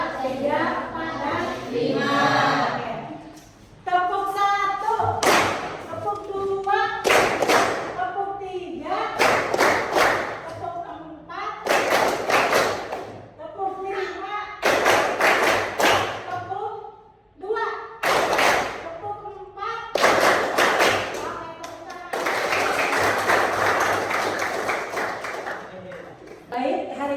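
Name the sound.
class clapping rhythm game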